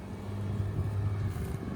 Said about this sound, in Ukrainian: Так, вже трактор пішов.